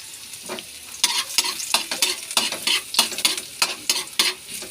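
Garlic is stirred and fried in a pan for picadillo with ground meat and egg, producing close, rhythmic scraping strokes about ten times over a soft, continuous sizzle.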